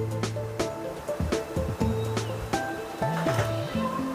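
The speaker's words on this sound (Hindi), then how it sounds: "सामने ही नदी बह रही है" The Choral River flows right beside a picnic and camping spot near Indore, a steady wash of water running underneath a person talking close by.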